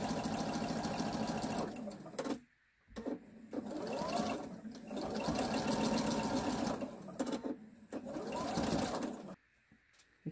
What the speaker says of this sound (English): I'm going to sew right off